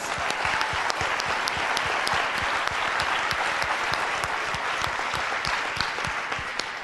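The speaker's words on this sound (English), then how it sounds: "I want everybody to give her a round of applause." A room full of people claps steadily and enthusiastically, a dense, continuous patter of applause with no voices over it.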